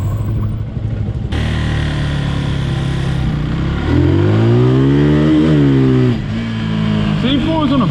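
Motorcycle engine in a Call of Duty game, a bike ridden through a city map, revving up and accelerating with rising and falling harmonic whine mid-clip, loud and close over steady game ambience, with talk over it.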